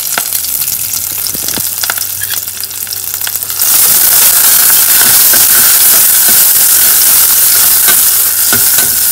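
Chopped garlic and fresh curry leaves fry in hot oil for a red lentil curry, starting with clicks and scraping before a sudden loud, steady sizzle and crackle takes over close up, without any talking.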